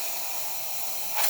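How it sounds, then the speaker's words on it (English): Dry steam hisses from the steam wand of a freshly serviced La Pavoni espresso machine, a steady close broadband rush that swells briefly near the end. "Strong, dry steam."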